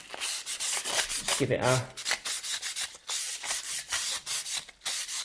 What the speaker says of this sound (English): it's easier to sort of take that off with a bit of sandpaper when they're in longer lengths than it is before you cut them up.